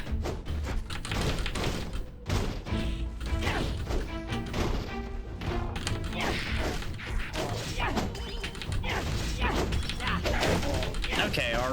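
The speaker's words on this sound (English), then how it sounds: "That little spark and then the swing was literally all our special is for this sword." A sword special move in the video game Lost Castle 2, heard as a quick spark followed by a fast swing, set among dense, loud combat hits and crashes that run without a break.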